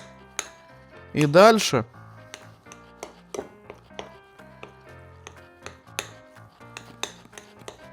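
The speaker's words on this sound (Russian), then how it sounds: "Теперь я это слегка размешиваю." Three egg yolks being stirred in a bowl, with scattered light clinks and taps of a utensil against the dish. A short spoken phrase rises briefly over the clatter.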